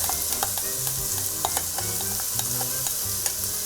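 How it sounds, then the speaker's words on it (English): Chopped onion sizzles and crackles in melted butter in a pan for a jambalaya, with steady frying hiss and scattered sharp pops and stirring scrapes, close and continuous with no talk. "I have 2 tablespoons of butter, just all melted in there. We are gonna add 1 onion, It's all chopped up."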